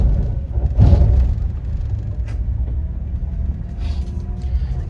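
Cars and buses sit gridlocked at the Cikopo junction, where bus agencies line the road, producing a continuous low rumble of idling engines with a louder swell early on and no talk.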